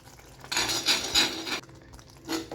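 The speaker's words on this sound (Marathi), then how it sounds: "आणि यामध्ये आता मी पनीर जे आहे ते असे बारीक खिसणीने खिसून घालणार आहे त्यावरच" A fine metal grater scrapes back and forth as paneer is grated over cooked gravy, giving close, bright rasping strokes in a few short bursts with brief pauses between them and no voices.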